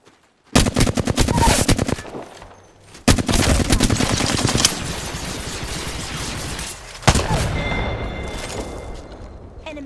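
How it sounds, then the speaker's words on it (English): Loud video-game gunfire from Apex Legends: long automatic bursts of rapid shots close by, several strings separated by brief pauses, with ringing and mechanical clatter between volleys and no talk over it. "The enemies are shooting at me."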